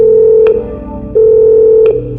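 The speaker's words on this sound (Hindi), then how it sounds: "कॉरिडोर में बजता हुआ फोन उठाया" A telephone rings in a hotel corridor, a loud, steady electronic tone sounding in two long bursts separated by a brief drop.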